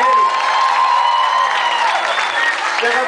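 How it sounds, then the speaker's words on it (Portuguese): A live audience at an evening show in Itaquera metro station claps and cheers loudly and steadily for about three seconds, with whoops and shouts over the dense applause and a few voices mixed into the crowd noise. "queria que vocês aplaudissem ele"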